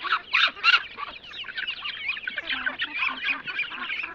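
A flock of native village ducks quacks and honks continuously, with a few louder calls at the start, close and moderately loud.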